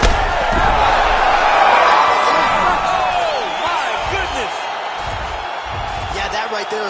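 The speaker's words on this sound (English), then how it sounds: "Crowd absolutely loving it." Arena crowd at a fight roars and cheers continuously after a knockout, a loud dense wall of voices swelling early then staying steady, with a commentator talking over it.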